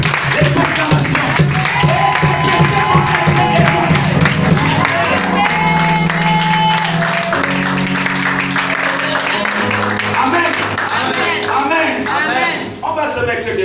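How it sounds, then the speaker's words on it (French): A church congregation applauding and acclaiming together, loud continuous clapping and cheering voices filling the room, with music and singing mixed in. "Acclame très bien, frère."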